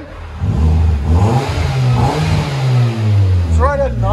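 A 2008 Kia Spectra EX with a muffler-deleted exhaust revs loud and close, its deep engine tone swelling and falling in pulls while people talk over it.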